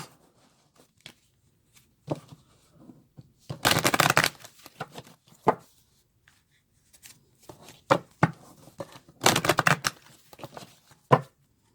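Cards are shuffled up close in two quick riffling bursts, separated by scattered taps and soft card handling in near silence.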